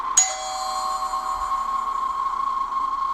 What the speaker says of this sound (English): I was in the main hallway unpacking some stuff when the doorbell rang.